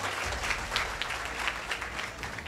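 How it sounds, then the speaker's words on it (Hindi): Applause from an audience at a Modicare business motivational event, a dense steady wash of clapping throughout with no talk over it. "तो एक बार जोरदार तालियां आप सभी लोगों के लिए"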